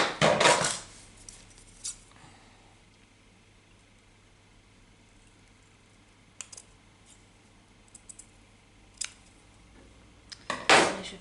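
Scissors cut a length of lace in two during a craft session, heard as a crisp snip at the start and again at the end, with scattered faint clicks between and no speech.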